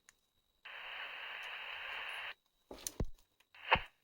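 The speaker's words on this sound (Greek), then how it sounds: "Για κάποιο λόγο κάνει παρεμβολές το ένα." A two-way radio, switched on by a group exploring ancient catacombs, gives a sustained burst of hissing static interference lasting nearly two seconds, followed by a few sharp clicks and short crackles in an otherwise quiet space.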